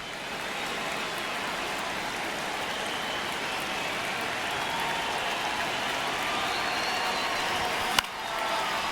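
Baseball stadium crowd in the video game MLB The Show 26, a steady, even roar of fans with no letup through a tense ninth inning, ending in one sharp click followed by a slight dip.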